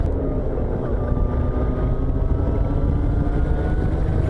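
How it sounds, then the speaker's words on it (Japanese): A 600cc motorcycle engine running steadily with a dense low rumble and a faint rising whine, loud and continuous with wind rush and road noise throughout. "このバイクの音はちょっと変ですね。 なんか電気のエンジンみたいね。"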